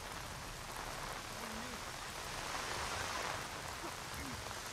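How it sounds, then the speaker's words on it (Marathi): Heavy monsoon rain pours over Dadar in Mumbai, a dense, even hiss of downpour that runs unbroken and fairly distant throughout. "दादर परिसरात मुसळधार पाऊस सुरू आहे."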